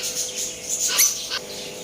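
Budgies chirping in a pet shop, a few short, high chirps that are fairly loud and close, over a steady background hum.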